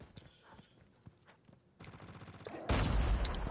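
Sniper rifle shots with explosive or thermite ammo in a shooter game, a few sharp cracks at a distance, then a loud burst of heavy impacts near the end.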